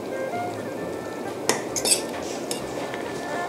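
A fork pokes and scrapes at stewed pork ribs in a pot of bamboo-fungus soup with Chinese herbs, giving a few soft metallic clinks over a low, steady simmering hiss.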